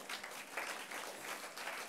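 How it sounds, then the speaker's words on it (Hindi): Applause at the inaugural session of a self-care and self-compassion event after a lamp-lighting ceremony, a faint, distant but continuous patter of clapping from an audience. "तो ज़ोरदार तालियों के साथ"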